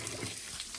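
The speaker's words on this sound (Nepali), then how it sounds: "यो पानी आउने धारो" Water pouring from the Bulbule spring spout at Ramshikhar, Nepal, a steady close splashing rush that fills the short moment without pause.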